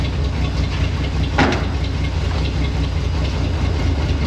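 A 1956 Dodge Power Wagon engine idles steadily and loudly nearby, a low even rumble with one brief clunk partway through.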